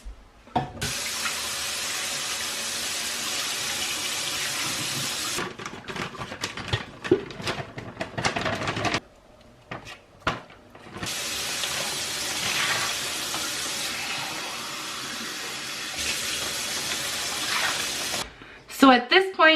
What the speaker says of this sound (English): You're also going to add 2 cans of water.